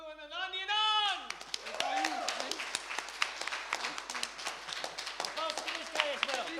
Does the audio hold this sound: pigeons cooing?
no